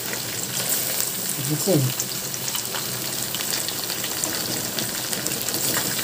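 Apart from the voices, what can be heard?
fish deep-frying in oil in an electric curry cooker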